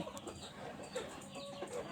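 Kuchinskiy Jubilee hens cluck softly in a coop, faint scattered clucks over low background noise, no talking.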